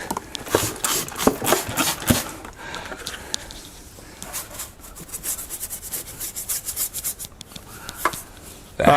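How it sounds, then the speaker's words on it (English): A brush scrubs back and forth along a seam on the underside of an MG ZS EV, making rapid rough rubbing strokes, loud and close, in bursts with a brief slower stretch, and no talking. "get the brush and clean along that seam"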